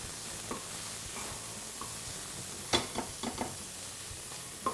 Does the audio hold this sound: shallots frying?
yes